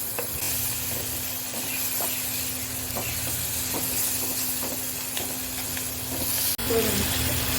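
Tomatoes are added to ginger frying in a pan for a curry, bringing a steady, moderate sizzle with light rhythmic ticks of stirring and a faint hum. A brief clatter comes near the end, and a voice may be faintly present.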